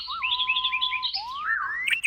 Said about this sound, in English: And cue the AI-generated bird song.